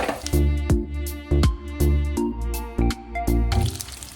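Cut pumpkin pieces drop into hot oil in a pan for a Telugu-style pumpkin curry, making a series of short wet plops and splats in an uneven rhythm, close and moderately quiet with no talking.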